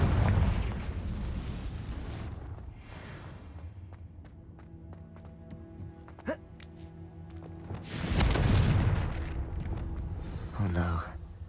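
A Confringo blasting spell from Hogwarts Legacy bursts in two loud, broad blasts, the second the stronger and closer, with game ambience and a few sharp hits between them.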